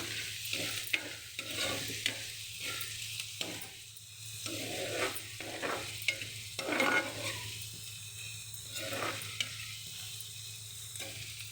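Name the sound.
onions with turmeric cooking in pan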